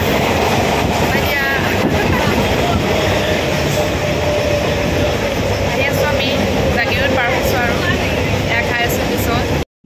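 Interior of a moving passenger train: a loud, steady rumble and rattle of the carriage runs throughout, with people chatting nearby underneath the noise.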